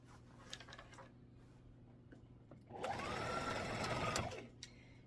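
A sewing machine stitches cotton fabric for a Christmas-themed table runner, with a faint mechanical hum, then one steady close run of rapid stitching lasting about a second and a half before stopping.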